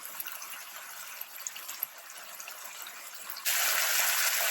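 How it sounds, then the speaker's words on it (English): Milk or water poured into a simmering paneer tikka masala curry sauce, a soft sizzling bubble followed by a loud steady gushing pour in the last second. "I'm using milk or water to make your sauce."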